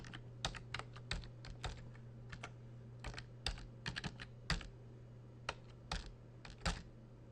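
Fingers tap out a short burst of keystrokes on a computer keyboard while entering a new password, irregular clicks close up and fairly quiet over a faint steady hum.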